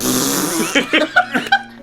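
A voice imitates a long, loud fart with a sustained buzzing, snore-like rasp that breaks into several short, flappy bursts toward the end.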